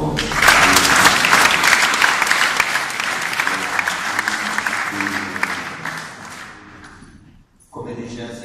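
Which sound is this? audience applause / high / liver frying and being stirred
audience applause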